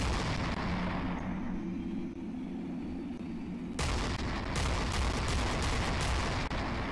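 Heavy cannon fire and explosions from the naval combat game Aegis, with a 30mm gun, starting with a dull rumbling drone and then turning into loud rapid blasts and booms, close and without talk.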